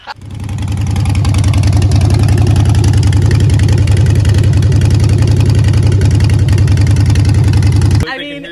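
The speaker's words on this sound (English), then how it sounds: "if you can't appreciate the sound of a motorcycle, loud or not" A loud motorcycle engine with its baffles removed gives a deep, heavy, continuous growl, close and powerful, building briefly at the start and cutting off near the end.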